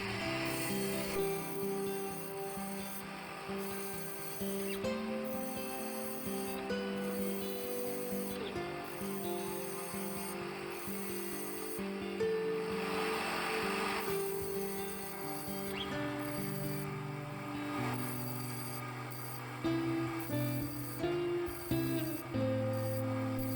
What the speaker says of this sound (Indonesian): setelah kita bentuk, kita rapikan dengan gerinda.